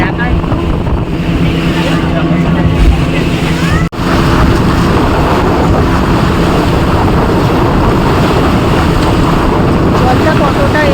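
A boat runs across the open sea with a steady rush of engine, water and wind buffeting the microphone, and people talk faintly underneath.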